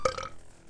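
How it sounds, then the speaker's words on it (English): A single short burp, close and fairly loud, fading quickly into quiet room tone. "The burping begins."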